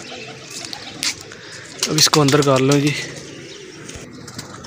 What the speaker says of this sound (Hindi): तो ये कबूतर है आगे को बैठा हुआ है